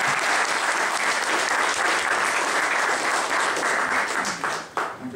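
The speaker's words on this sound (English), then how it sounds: "I'd like to give them a warm welcome applause." Warm audience applause welcoming speakers at a public debate, dense and sustained clapping from a full hall that holds steady before tapering and cutting off near the end.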